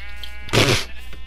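A sheep in a video game lets out a single short bleat at close range, standing out briefly against a steady background hum.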